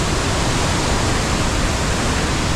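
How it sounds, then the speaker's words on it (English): Steady rain falling in tropical Queensland, a dense, even hiss of broadband noise with no pauses, loud and close. "It is still raining, but come with us."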